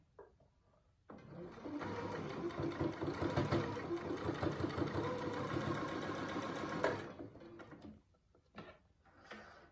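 A sewing machine stitching a small fabric face mask, a steady close whirring run of about six seconds after a brief quiet start, then stopping, followed by a few faint handling clicks.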